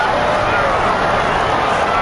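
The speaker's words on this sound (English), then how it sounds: "The crowd's not doing that O-line any favors." Stadium crowd in the Madden 18 football game, 49ers at Seahawks, a loud dense roar of cheering and babble filling the whole stretch, constant and close.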